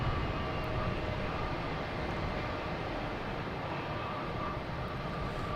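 A Delta airliner at Boston Logan Airport, a steady broadband jet engine roar at moderate distance, continuous and unchanging throughout.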